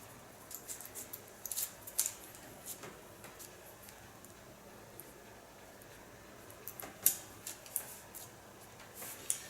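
Scissors slice-cutting hair while styling a pixie cut, giving faint, scattered snips and soft sliding cuts at irregular intervals over a quiet background.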